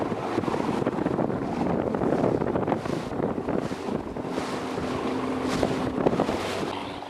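A boat pushes through rough waves in rain, with a steady broadband roar of wind and spray and a low engine hum running throughout.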